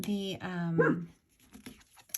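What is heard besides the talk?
dog barking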